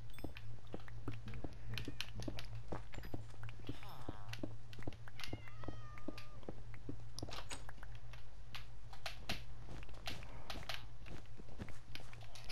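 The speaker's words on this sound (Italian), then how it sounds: "Mamma mia, sti gatti." Cats in the Minecraft video game meow several times in short, faint game-sound calls over a steady low hum, with clicks and rustling in between.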